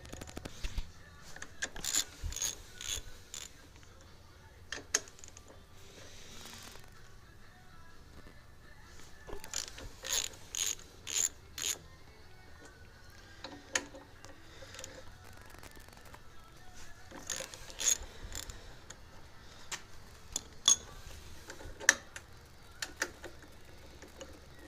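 Ratchet wrench working 13 mm gas tank bolts loose on an Indian Scout motorcycle, giving bursts of quick metallic clicks in several clusters, with quiet gaps between them and a faint background hum.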